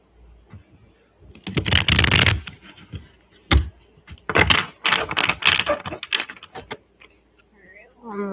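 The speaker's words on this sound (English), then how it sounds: "I'm trying to really shuffle those old cards." An old deck of tarot cards is shuffled in quick, crisp bursts, riffling and twisting in several short rounds close by, with brief pauses between.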